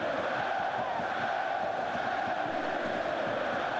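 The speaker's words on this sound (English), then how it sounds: "Terrific atmosphere there always is. And once again, it's a sellout crowd." Sellout stadium crowd of Hamburg football supporters at a German Cup semi-final against Werder Bremen, a steady dense roar of thousands of voices, continuous and evenly loud throughout.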